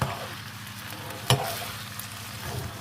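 Spicy cottage pie filling sizzles in a pan as it is stirred together, with a steady frying hiss, one sharp clink of the utensil partway through, and no voices.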